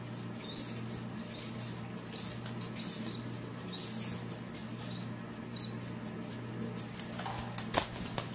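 A baby pigeon being tube-fed baby formula flaps its wings in several soft, fluttery bursts, close but faint over steady low background hum, with a few small chirps near the end.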